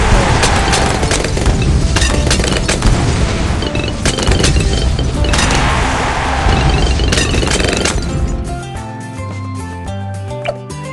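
Fire bomb explosions in Bloons TD 6, a loud, dense barrage of booming blasts rolling continuously, then thinning into scattered pops and game sounds near the end.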